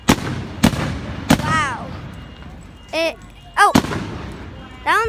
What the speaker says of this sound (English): But these are just amazing fireworks.